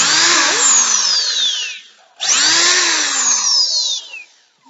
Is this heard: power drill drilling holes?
yes